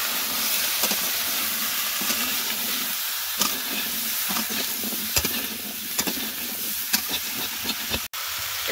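Potatoes and eggplant fry in a pan of oil with garlic, onion and green chili for a Bengali river-fish curry, giving a loud, steady sizzle with scattered sharp crackles and pops throughout and no voices.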